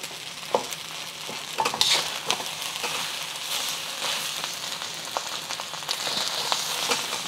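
Shrimp and egg fried rice being stir-fried Malaysian style in a hot wok, a steady close sizzle with scraping, tossing stirs and light clicks of the spatula, continuous and without talk.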